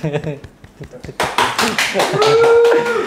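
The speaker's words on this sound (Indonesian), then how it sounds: "Tepuk tangan tipis-tipis." A few people in a talk-show studio give light clapping, a brief patter of claps starting partway through, with someone talking over it.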